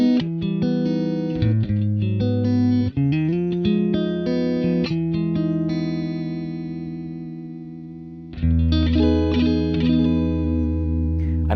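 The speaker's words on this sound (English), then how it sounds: "this is the neck and middle positions that give you that out-of-phase sound" Electric guitar, a FOALS FS7 on the neck and middle pickup positions, with a thin, glassy out-of-phase tone, chords ringing out and sustaining with a wash of effects, then a fresh strummed chord near the end.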